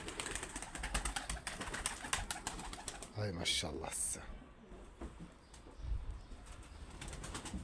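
Pigeons coo and flutter near their coop while someone speaks briefly over steady outdoor background noise.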